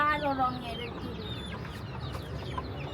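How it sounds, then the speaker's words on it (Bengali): Chickens on a rooftop clucking close by, a busy run of short squawky calls with a few higher cries, over a low background murmur. "দুইটা মুরগি বের হয়ে গেছে এদেরকে ঢুকাইতে হবে"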